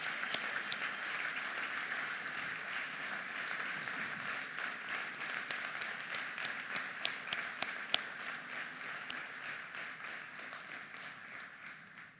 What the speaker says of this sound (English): let's give our teachers a big round of applause.